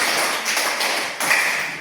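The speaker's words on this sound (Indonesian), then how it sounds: "Tepuk lima kali" A group of children in a classroom claps five times together: quick, close, bright slaps in a short burst, fairly loud and with no talking over them.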